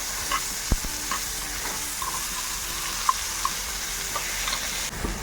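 Tomatoes are mashed in a pan while cooking masala macaroni pasta, a soft steady sizzle with occasional light taps and scrapes of a spoon against the pan.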